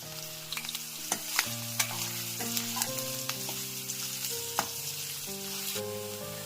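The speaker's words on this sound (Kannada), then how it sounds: "ಇದೆಲ್ಲ ಸ್ವಲ್ಪ ಹಸಿ ವಾಸನೆ ಹೋಗೋವರೆಗೂ ಇದರಲ್ಲಿ ಎಣ್ಣೆನಲ್ಲಿ ಹುರ್ಕೋಬೇಕಾಗತ್ತೆ." Onions and curry leaves frying in oil give a continuous sizzle, broken by repeated sharp clicks of a utensil against the pan, alone without talk.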